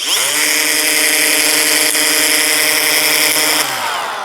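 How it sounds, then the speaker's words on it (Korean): A Bosch X-LOCK angle grinder runs steadily at full speed with a loud, continuous high whine, then winds down near the end. "그라인더 돕니다."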